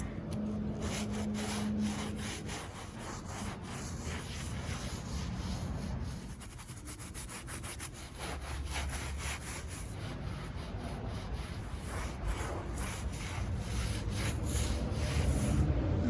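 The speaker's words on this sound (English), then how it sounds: "And then I'm going to apply it with a nice nylon bristle brush." A nylon bristle brush scrubs a dirty synthetic rug by hand, making a steady, close, rasping rub with rhythmic back-and-forth strokes that continue throughout with no talking.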